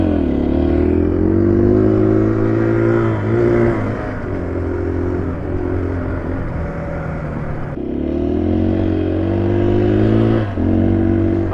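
A KTM 500 EXC-F dirt bike is ridden on and off road, its engine droning loud and close at steady speed. The pitch dips and rises around gear changes, with wind rush over the motor.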